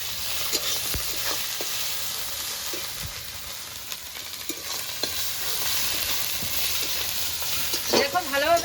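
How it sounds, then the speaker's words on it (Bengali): Masala spices with salt and turmeric frying in a pan for ghugni, a continuous close sizzle broken by frequent scraping stirs and small clinks, with a brief rattling scrape at the end. "ভালোভাবে মশলাটাকে আরেকটু নেড়ে চেড়ে কষিয়ে নেবো"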